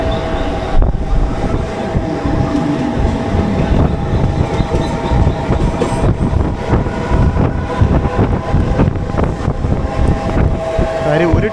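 A Mumbai Harbour Line EMU local train runs at speed, a continuous loud rumble and rattle of wheels and carriages with wind noise throughout, steady and close from inside the coach.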